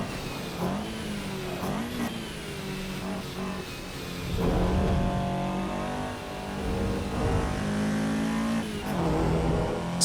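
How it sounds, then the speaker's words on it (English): A Toyota AE86 engine in the Assetto Corsa EVO racing game revs hard, drops briefly through a flat shift and climbs again, a loud steady drone with no talking. "That was a pretty good flat shift."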